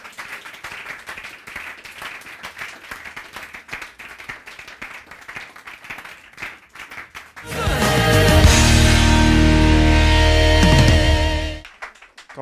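A church congregation bursts into loud, sustained clapping and applause for Reverend Patrick Yoro, lasting about four seconds before stopping abruptly, preceded by quieter room noise.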